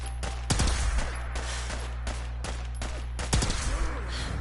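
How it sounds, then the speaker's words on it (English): Bursts of rapid gunfire in Fallout 4 with several sharp shots, some in quick clusters, over a steady low background hum. "Shooting like a crazy man."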